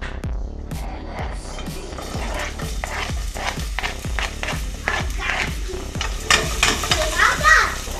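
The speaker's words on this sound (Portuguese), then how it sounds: "Vamos colocar a cebola lá primeiro." Onion frying in olive oil, a steady sizzle broken by repeated sharp stirring clicks against the pan, with children and voices chattering faintly in the background.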